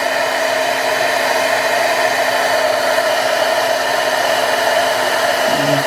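A heat embossing tool blows hot air steadily over craft embossing powder, a continuous close, loud whooshing hum with no breaks.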